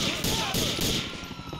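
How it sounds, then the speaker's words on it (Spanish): A shotgun fires in the video game Grand Theft Auto 4: a burst of booming blasts in quick succession amid gunfire clatter, loud and close, within a short chaotic stretch of game sound. "creo que escuché el disparo de una escopeta"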